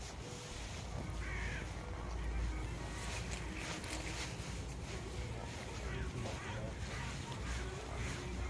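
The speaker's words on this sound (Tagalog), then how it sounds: "Uwak, uwak." A crow caws repeatedly in an outdoor garden, with wind, rustling and soft background noise throughout and a voice talking faintly in the distance.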